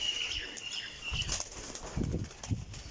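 Pigeons flap their wings in short, soft flurries of fluttering at their loft, faint and fairly close, with no talking.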